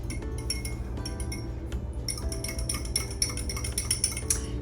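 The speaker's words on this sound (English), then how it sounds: "2 tablespoons of extra virgin olive oil, now let's whisk that together." Olive oil and white wine vinegar dressing being whisked in a bowl, with quick irregular clinks and metallic ticks of the whisk against the bowl, close and fairly quiet, with no talking.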